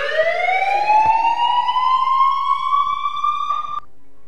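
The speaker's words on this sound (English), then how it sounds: "alert siren. So this would be, I suppose, if somebody's breaking into your base, just to let you know." Minecraft base alert siren from the Simple Sirens, Alarms & Bells mod: a single loud electronic wail rising steadily in pitch for several seconds, then cutting off abruptly into quiet.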